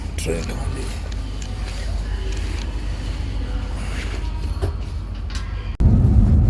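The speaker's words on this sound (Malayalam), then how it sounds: "അങ്ങനെ ട്രെയിനിൽ കയറി." Steady low rumble of a moving train carriage, constant and close, with a louder surge of rolling noise near the end; no talk.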